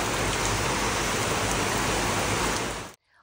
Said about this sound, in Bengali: আর বৃষ্টির ফোঁটাগুলো দেখলে বুঝতে পারবে যে কত জোরে বৃষ্টিটা হচ্ছে।